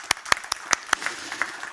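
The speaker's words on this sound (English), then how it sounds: "we'll give him a round of applause" Sparse clapping from a small conference audience of mining and investment attendees, about five distinct sharp claps in the first second followed by quieter scattered claps trailing off.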